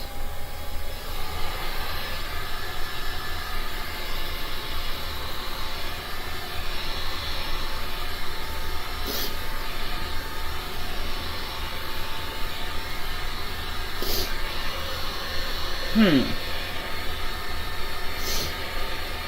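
A heat gun blows steadily over a resin pour to raise cells, giving a continuous airy, motor-like whoosh throughout with a few brief higher clicks, and no talk.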